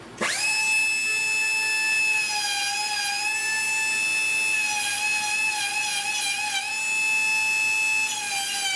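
A dentist's drill used on the rear deck bodywork of a 1974 Triumph TR6 during restoration, a loud continuous high-pitched whine that spins up sharply and holds steady, wavering slightly under load, close and alone.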